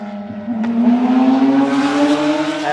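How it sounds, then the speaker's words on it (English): A competition Porsche race car comes through a Victoria Park rally special stage, its engine note holding a steady, moderately loud tone that climbs gradually in pitch as it passes. "First of our competition Porsche cars coming through."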